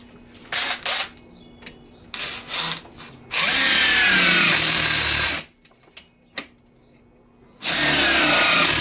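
A power drill bores through material while building solar panel legs, running in several short bursts and then two long, loud sustained runs close by, with pauses between.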